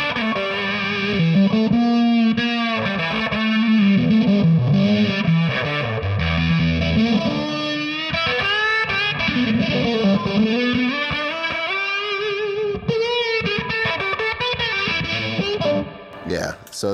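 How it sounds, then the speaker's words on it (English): An electric guitar played through octave and fuzz pedals gives a thick, distorted, sustained tone with gliding bends and shifting notes over several phrases, up close and continuous. "Then sometimes with the octave and the fuzz and that."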